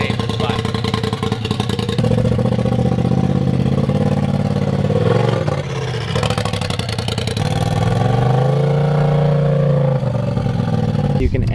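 A straight-piped Polaris RZR Turbo S engine roars loud and close while driving around, its note rising and falling through revs for several seconds with little break.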